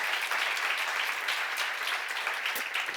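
A church congregation at a seminar claps together in response to the pastor, a steady, fairly soft wash of many hands applauding throughout.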